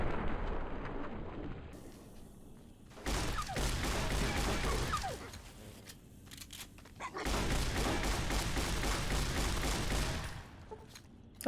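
Gunfire in Fallout: New Vegas, with heavy bursts of shots roughly from 3 to 6 seconds and 7 to 10 seconds, set between quieter stretches, loud and close.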